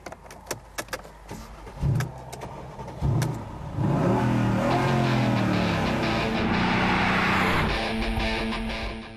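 A Mercedes E63 AMG estate's V8 engine cranks with the key, catches and roars to life after a few clicks and short bursts, then settles into a loud, steady, rumbling idle close by.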